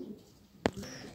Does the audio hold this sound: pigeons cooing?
yes